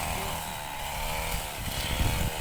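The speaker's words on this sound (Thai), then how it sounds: "จะมีเสียงเครื่อง ตัดหญ้าด้วยนะจ๊ะ" A string trimmer cutting grass in a rice paddy whines steadily at close range, its engine note wavering slightly as it cuts, continuous throughout with no talking.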